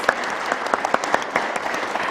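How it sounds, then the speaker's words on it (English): Steady, close applause from a crowd, dense clapping with a few sharper individual claps standing out. "A big round of applause for all of these extraordinary performers."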